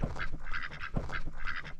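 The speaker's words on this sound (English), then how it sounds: "we have a couple of ducks in there." A couple of pet ducks on a homestead farm quack in loud, close, repeated bursts, several honking calls in quick succession with no talk over them.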